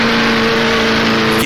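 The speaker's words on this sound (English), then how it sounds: "Hear the engine RPM rise." A 1930s Grand Prix race car engine in the rFactor racing game drones loudly and steadily at high revs on the Tripoli circuit, a constant close-up whine with no other sounds.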